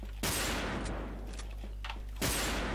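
Two loud, sharp shots from a Zaitsev-style rifle in the online shooter Wolfteam, each a broadband crack with a decaying tail, spaced about two seconds apart over steady game background noise.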